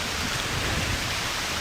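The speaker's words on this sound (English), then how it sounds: "As if the night wasn't tough enough, the thunder's just let rip too." Steady dense hiss of a heavy nighttime Amazon rainstorm during an endurance race, a continuous loud wash of rain with a low rumbling undertone, no voices.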